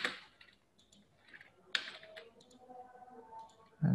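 A few soft keystrokes on a computer keyboard entering an AutoCAD command, sparse close taps in a quiet room with a sharper key hit midway and another at the end.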